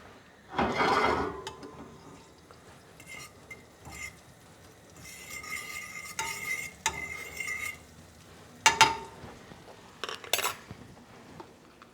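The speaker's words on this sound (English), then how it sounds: "I'm going to add just a little bit more butter to the skillet." Butter in a skillet on medium-high heat gives a soft sizzle behind louder metal utensil clinks and pan scrapes. The sounds come in irregular bursts, close up, with no talking.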